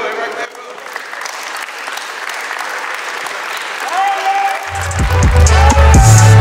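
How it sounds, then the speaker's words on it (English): Kids at an outdoor football camp run by a Seattle Seahawks player clap together over open-air noise, while voices and loud close thumps rise near the end. "Let me hear clap. Clap, bro."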